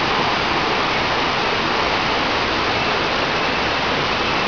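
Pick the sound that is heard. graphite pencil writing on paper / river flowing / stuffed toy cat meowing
river flowing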